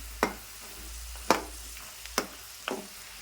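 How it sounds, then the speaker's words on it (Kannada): Masala peanuts frying in a little oil in a pan over a gas flame, heard as a soft steady sizzle broken by four sharp scraping stirs spaced about a second apart, close and fairly quiet, with no voices. "ಫ್ರೈ ಮಾಡ್ಕೊಳಕ್ಕೆ ನೋಡಿರಿ ಈ ರೀತಿ ಫ್ರೈ ಮಾಡ್ಕೊಳ್ತೀನಿ ನಾನು"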